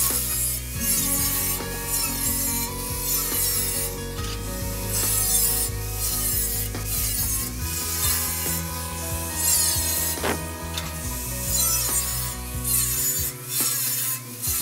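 An angle grinder cuts tabs into the rim of a metal burn barrel, a loud, continuous grinding and rasping with a shifting pitch as the disc bites the steel, close up for the whole stretch, with no voices.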